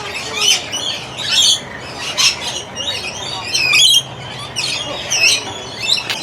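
Flock of rainbow lorikeets calling in a zoo aviary in Melbourne, Florida: loud, shrill squawks and chattering chirps come in repeated bursts from close by, with overlapping calls and no talk.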